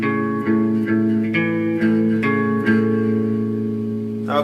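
A guitar picking pattern played dead slow, with single picked notes ringing over a sustained, slightly effected tone, close and steady.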